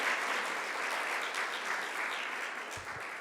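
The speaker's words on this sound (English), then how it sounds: "let's just applaud divine grace for flowing through her" A church congregation applauds steadily throughout, a dense even wash of clapping from many hands at moderate loudness with no talking over it.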